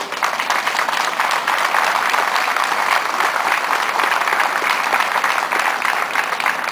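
Loud, dense applause from an audience at a municipal government report event in Jocotepec, honoring the town council members, continuous and even from start to finish with no talking.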